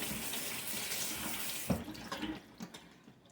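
Tap water runs steadily into a kitchen sink while baby bella mushrooms are rinsed, the flow breaking into splashes and clatter as the stream is interrupted near the end.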